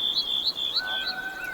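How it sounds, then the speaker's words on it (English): Birds chirp and tweet continuously in high, clear, repeated calls with sliding whistles, fairly loud and close, with no talking, in the game Way of the Hunter. "them birds are loud"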